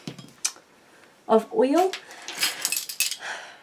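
A spoon scrapes and clinks against a dish while DIY lip scrub is stirred with oil, producing close, irregular metallic taps and scrapes, with a person talking over part of it.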